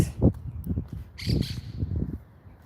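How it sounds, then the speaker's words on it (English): Green birds chatter close by in short, raspy squawks and chirps that come in quick clusters, several calls overlapping over a few seconds. "Chatty birds."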